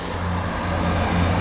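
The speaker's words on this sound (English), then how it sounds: "Sorry about that train going by." Steady low rumble with droning low-frequency hum throughout, like a train rolling past nearby, continuous and fairly loud.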